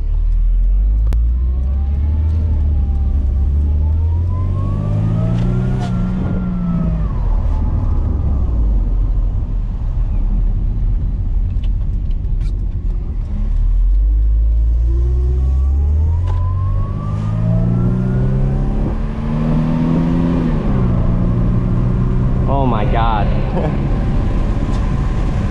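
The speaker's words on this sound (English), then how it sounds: "when that supercharger kicks in, dude, this thing is just money" A 1998 Mercedes-Benz SLK 230 with the supercharged 2.3 liter engine pulls hard through the gears. The engine note climbs in loud, rising sweeps that drop at each shift, with a whine over the rest, heard from inside the car.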